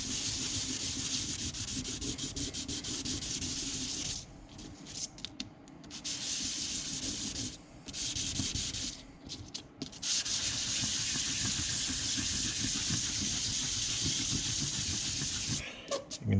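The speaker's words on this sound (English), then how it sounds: "we're actually pulling the sandpaper material, or sanding material off the paper" Abrasive sanding material peeled away from its paper backing while assembling an AVE Skookum utility knife: a close, continuous scratchy rasping that breaks into short pauses midway, then resumes steadily.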